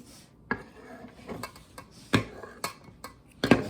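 Metal baking pans are handled close by, giving a series of sharp clanks and rattles at uneven intervals over a quiet room background, with no talking.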